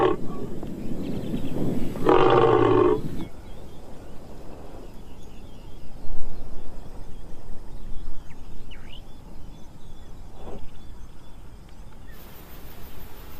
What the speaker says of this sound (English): the male lions roar like kings